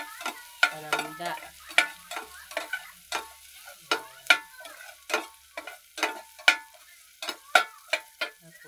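Aromatics sautéing for arroz caldo, a utensil striking the pan in sharp, irregular clacks roughly every half second over a faint, quiet sizzle.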